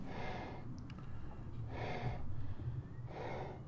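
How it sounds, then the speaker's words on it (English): A person clears their throat up close in three short, breathy bursts, with no talking. "sorry, I had to clear my throat."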